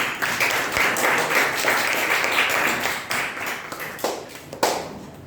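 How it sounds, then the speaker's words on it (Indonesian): A class claps for a group of students, a dense, steady patter of applause filling the room at moderate volume, thinning into a few scattered claps at the end. "Silakan kita tepuk tangan untuk kelompok 1."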